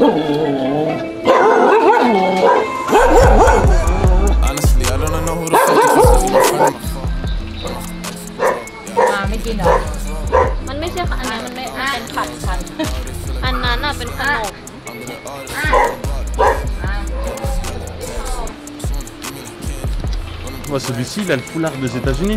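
An American dog barks in short bursts beneath ongoing talk in Thailand, with people chatting close by throughout.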